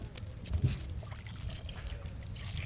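Water is poured into a pot to wash it, a steady close trickle and splash running throughout with a soft bump near the start, no talk.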